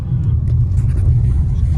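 Sunday-morning road traffic on a highway under construction near Vadakara, heard from inside a Citroen C3 car, a loud low continuous engine and road rumble throughout.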